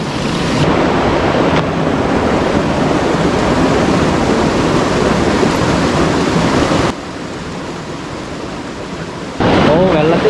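Cold forest river rushing through jungle at Kottappuzha near Nilambur, a loud continuous churning wash that drops briefly and then swells again.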